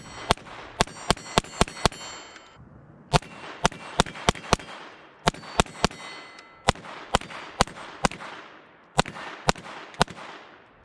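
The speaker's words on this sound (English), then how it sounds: "I'm shooting at 4-inch, 6-inch, and 8-inch pieces of steel with this thing." A Taurus TX22 pistol fires at 4-, 6- and 8-inch steel plates outdoors. About two dozen sharp cracks come in quick, uneven strings, each with a bright ringing clang from the steel.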